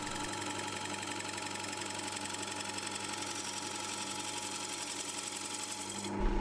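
Wood lathe turning the bottom of a wooden cake stand, cutting a concave dinner-plate curve; a steady, continuous whirring hum with a faint scraping texture runs throughout, close and even, swelling slightly at the end.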